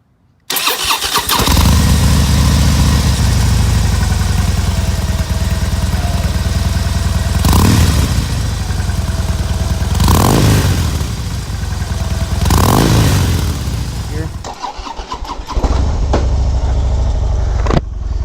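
A Harley-Davidson Fat Bob with Screamin' Eagle Street Performance staggered dual mufflers fires up and idles with a loud, throaty rumble, then revs sharply three or four times before settling back to idle.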